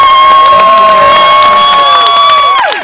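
A live show audience cheering and whooping loudly, with a sustained shrill crowd roar and tonal whistling that holds steady, then cuts off abruptly near the end.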